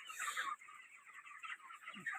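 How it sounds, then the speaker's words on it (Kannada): Broiler chickens in a poultry farm shed give soft, continuous clucks and murmuring calls while feeding and drinking. The sound is faint and steady, with a low thud near the end. "ಕೋಳಿ ನೀರು ಕುಡಿತಿರ್ತವೆ"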